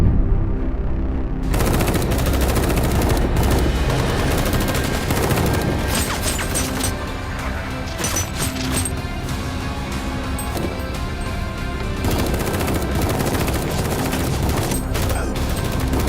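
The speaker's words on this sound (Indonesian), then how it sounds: "Pasukannya itu turun menembaki Zhang." Film gunfire as troops open up on a man: dense, continuous bursts of automatic weapons and rapid shots, loud and close, with cracks and impacts layered through the whole stretch.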